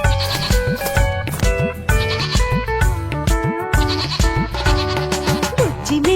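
A cartoon baby goat bleats again and again in a Telugu children's rhyme, its wavering cries repeated loud and close over bright, busy music.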